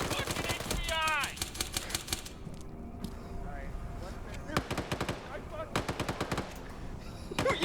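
Bursts of rapid automatic gunfire in a military shooter video game during a capture operation, loud rattling volleys separated by quieter gaps, with people talking and shouting in between.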